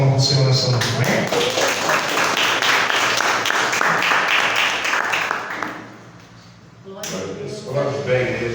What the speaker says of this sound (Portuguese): Dá uma salva de palmas para o Senhor nessa noite